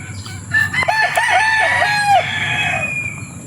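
A Papay Gray gamefowl rooster gives a single long, loud crow close by, rising and then trailing off over a few seconds against faint farm background noise.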